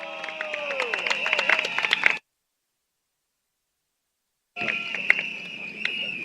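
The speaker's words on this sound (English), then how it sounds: "let's give you a round of applause to Miss Peggy Chua" Crowd applause at an outdoor political rally at a junior college, a busy wash of clapping and cheering with a sustained tone over it, broken by a sudden two-second gap of silence before resuming.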